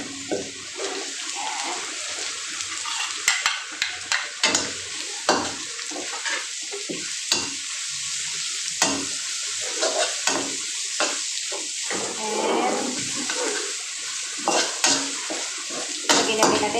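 Onions sautéing in a pan for pork binagoongan: a steady sizzle with frequent sharp scrapes and clinks of a utensil stirring against the pan.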